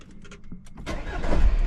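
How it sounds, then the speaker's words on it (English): A car engine is cranked and fires, the starter whir building into a loud, rising roar as it catches, with no talk. "Right now, I'm just gonna start the car."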